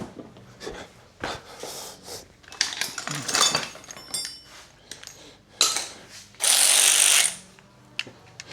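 Bursts of a powered ratchet driving a bolt during chores around the house, loud mechanical rattling in short uneven spurts with clinks of metal between them, and one longer sustained burst near the end.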